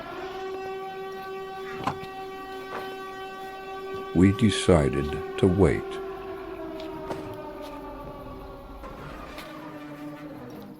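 A steady droning siren wail from Siren Head in Minecraft holds on with several layered tones, fairly faint and distant, with a short burst of talk partway through.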